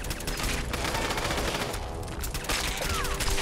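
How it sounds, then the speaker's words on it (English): Sustained automatic gunfire from the companion Piper in Fallout 4, a dense continuous rattle of rapid shots layered with other game combat noise, loud and steady throughout. "I'm just curious as where Piper got the machine gun from."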